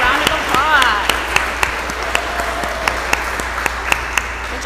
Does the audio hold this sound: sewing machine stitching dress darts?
no